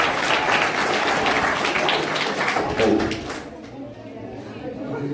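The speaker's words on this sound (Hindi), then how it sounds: "जोरदार तालियों से उनका स्वागत करेंगे।" An audience at a primary gurukul school event claps loudly to welcome the principal, a thick burst of applause that fades out partway through, leaving quieter room noise.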